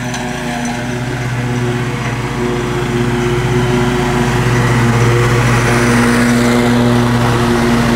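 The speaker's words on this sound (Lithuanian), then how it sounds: "intensyviai čia visur žolytė šienaujama" A lawn mower cuts grass, its engine holding a loud, continuous, even drone close by throughout, with no voices.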